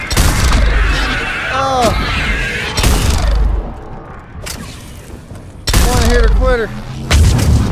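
Gunfire in the video game Mass Effect 3: loud repeated booming shots in bursts, with someone talking over the action.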